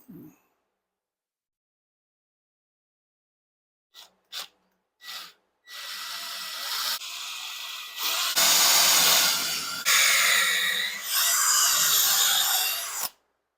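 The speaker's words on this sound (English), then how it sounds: "We'll go ahead and drill these out." After a few brief taps, a power drill whirs into wood in several sustained bursts, drilling holes, growing louder and grittier as it bites.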